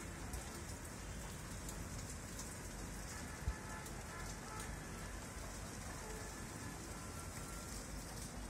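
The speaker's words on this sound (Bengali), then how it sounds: "বৃষ্টিটা যে দেখাবো, কাছে যেতে ভয় লাগে।" Rain falls outside a netted window as a soft, steady patter, faint and continuous, with one brief knock partway through.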